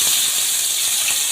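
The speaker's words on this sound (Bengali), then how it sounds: "এবার একে একে মাছগুলো সব কড়াইতে দিয়ে দিচ্ছি।" Fish frying in hot oil in a wok, a steady, loud, even hiss of sizzling that holds without a break, with no voices over it.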